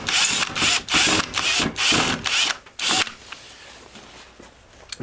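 A power drill backs screws out of plywood on a snowmobile sleigh, whirring in several loud, close bursts that grow shorter, then falls quiet with faint handling noise.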